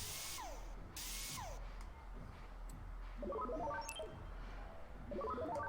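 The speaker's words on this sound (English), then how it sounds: "Sounds like a freaking drill." Drill-like whirring in a Forza Horizon 4 demo, with rising and falling mechanical whines and sweeps over a steady low rumble, followed by quick rattling, ratchet-like stutters, fairly faint.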